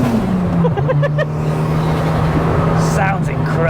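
A fully built 330 bhp Toyota Glanza with a straight exhaust holds a loud, steady, droning idle-to-rev note up close, with a sharper rise near the end and people talking over it.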